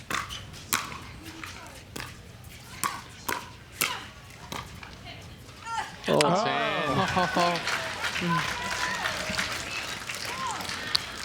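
A crowd at an evening outdoor pickleball championship, the US Open, breaks into applause and cheering, joining after several sharp paddle-and-ball pops. A commentator talks over the rising crowd noise.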